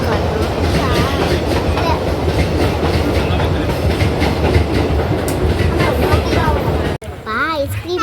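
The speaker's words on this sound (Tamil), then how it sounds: "பக்கத்துலேயே ட்ரெயின் போச்சு." A train passes close by beside a park, a loud continuous rumble with rhythmic clatter of wheels that fills most of the clip, while a voice and other people talk over it.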